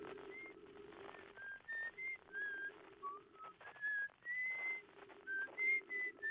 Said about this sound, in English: We have whistling coming very close here.